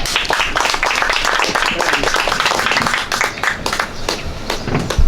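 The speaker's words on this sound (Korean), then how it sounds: "박수 한번 보내주시죠" Meeting audience applauding at an appointment ceremony, with a steady burst of dense, close clapping from many hands lasting several seconds with little talk.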